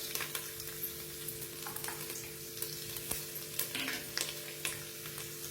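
Peanuts, garlic and green chilli sauté in oil with a continuous close sizzle, broken by sharp clicks and scrapes from stirring, with no talking.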